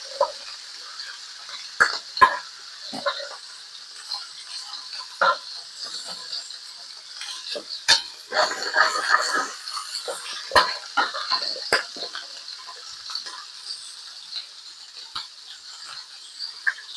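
Garlic sautés in a pan for kaldereta, a steady fine sizzle with scattered spatters and a louder stretch of frying midway, as a spoon stirs it now and then.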